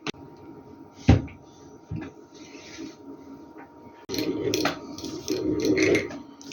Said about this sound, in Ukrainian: Закриваємо металевими кришками, накриваю.